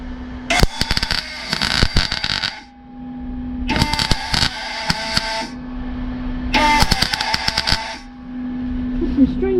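Wire-feed welding on the body of a Rover P6 car, the wire feeding poorly: three loud, crackling bursts of arc, each a couple of seconds long, separated by short pauses under a steady humming drone.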